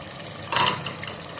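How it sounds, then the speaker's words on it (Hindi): A kilo of boiled white chickpeas drops into a pot for chana salan, making one brief, soft, wet splash and rustle against a quiet kitchen background. "अब हम इसके अंदर ऐड कर देंगे उबाले हुए चने"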